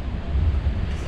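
Strong low rumbling stormy wind buffeting the microphone on Dunree Head, a coastal headland in Donegal, Ireland, steady and loud for the whole moment, with no voices.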